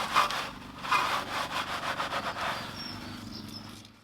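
A detail brush scrubs the barrels of a Porsche's grimy car wheels, producing quiet, rhythmic bristly scratching strokes in quick succession, fairly close and with no talking.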